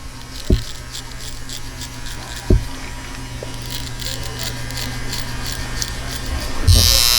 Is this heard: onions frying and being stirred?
no